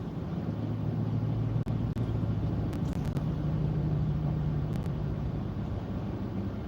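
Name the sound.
car driving in road traffic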